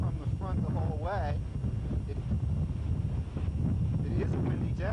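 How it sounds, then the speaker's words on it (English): Gusty wind buffets the microphone with a constant low rumble at a road race while a voice speaks over it. "It is a windy day."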